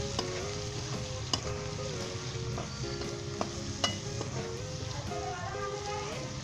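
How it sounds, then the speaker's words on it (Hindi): Boneless chicken with onion, ginger-garlic, garam masala, salt and dried coriander for a bitter gourd curry sizzles loudly in a pan, with irregular spoon scrapes and clacks over a continuous frying hiss and a steady tonal hum. "और हिला दें इसे 1 मिनट के लिए"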